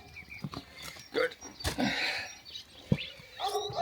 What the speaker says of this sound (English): Stupid barking dog.